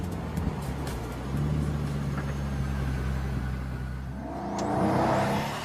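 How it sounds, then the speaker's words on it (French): A Pagani Huayra supercar accelerates along a long straight, its engine a steady, close drone that swells and grows brighter toward the end, with no voices. "Tandis que le nouveau bolide s'élance comme une fusée sur la grande ligne droite, les volets sont maintenus en position basse."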